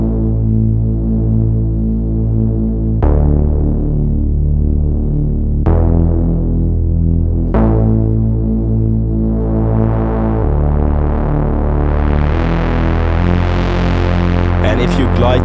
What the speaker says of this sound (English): Bass Illusions is a kind of Reese bass, and it has an analog touch to this.